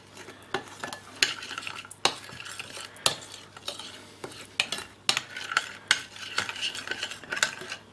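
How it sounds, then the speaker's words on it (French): A spoon stirs a seasoning paste of mustard, broth, olive oil and ground pepper for chicken, scraping and clinking against the bowl in a steady, fairly close rhythm of repeated strokes. "je mélange encore le tout"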